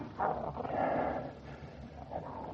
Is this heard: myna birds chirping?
no